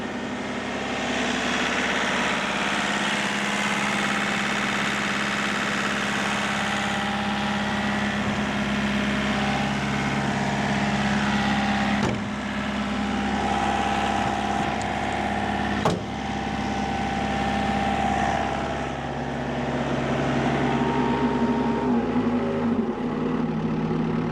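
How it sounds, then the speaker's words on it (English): Engine of a piece of heavy machinery running at high revs on a smallholding in winter, a loud steady drone with a strong low hum and a dense rumble, holding nearly constant throughout with two brief clicks and a slight dip near the end. "got the engine running high"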